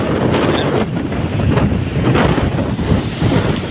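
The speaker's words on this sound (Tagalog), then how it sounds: "Grabe yung hangin. Malakas." Strong typhoon wind sweeps along the seashore in Barangay San Pedro beside a boat, a steady close roar of buffeting gusts battering the microphone throughout, with no voices.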